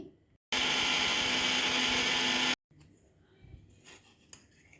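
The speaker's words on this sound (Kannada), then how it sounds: "ಇವಾಗ ಇದನ್ನ ನಾನು ಪುಡಿ ಮಾಡ್ಕೊತಾ ಇದ್ದೀನಿ." A mixer grinder whirs loudly and steadily for about two seconds while grinding spices with turmeric and asafoetida into sambar powder. It then cuts off sharply, leaving faint rattling and handling noises.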